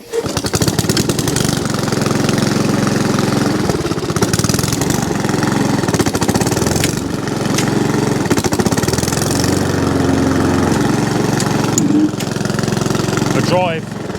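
A lawnmower, a Honda HRX 537 or a Hayter Ranger 53, runs loudly and noisily throughout with a steady, rough engine drone. A voice talks over the engine noise.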